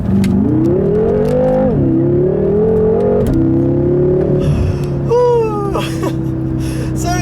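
A 2014 BMW M6 Gran Coupe is driven from inside the cabin, its engine note climbing through rising revs, dropping at gear shifts and humming steadily, loud and close, with faint extra whines near the end.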